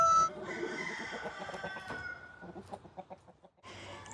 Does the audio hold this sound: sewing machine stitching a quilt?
no